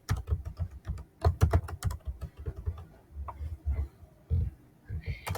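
Code is typed on a computer keyboard for a TypeScript number-guessing game, with quick clusters of close, crisp key clicks in an uneven rhythm and someone talking in short phrases between bursts.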